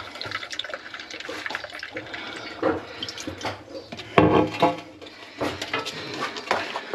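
Water mixed with cider vinegar rinsed over a horse during a bath, a continuous splashing and trickling with a few louder pours and drips, close by.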